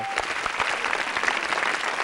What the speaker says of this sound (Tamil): கைதட்டு.